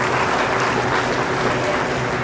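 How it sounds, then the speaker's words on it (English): Steady audience applause fills a junior beef cattle show arena at the Illinois State Fair, sustained, even clapping from a crowd congratulating Shorthorn Plus heifer exhibitors, with no talk over it. "Congratulate all of our Shorthorn Plus exhibitors with a round of applause."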